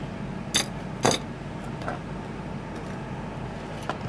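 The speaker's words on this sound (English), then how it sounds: "next level of screws should get us the main board out by the looks of things" Screws are undone and the main board is taken out of a 20 amp 12/24 V PWM solar charge controller, with two sharp close clicks early on and faint small mechanical rattles and creaks afterward.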